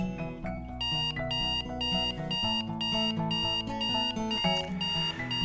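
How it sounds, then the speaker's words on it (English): An alarm clock rings in a video game as a bright, repeating electronic melody of tones, loud and steady, with no voices over it. "I woke that day to the screeching of my alarm clock in my car, in my ear"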